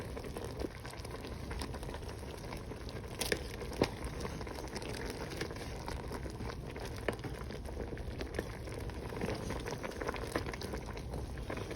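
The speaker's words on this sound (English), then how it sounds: "There we go, boiling away." Homemade zucchini relish boils in a pot with a constant close bubbling and fizzing, small pops crackling irregularly over a steady simmering hiss throughout.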